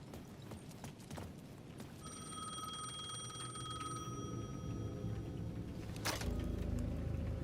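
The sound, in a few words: payphone ringing in the video game Alan Wake 2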